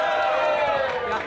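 An audience at a hackathon kickoff cheers for the pink team, a brief burst of crowd noise mixed with a voice.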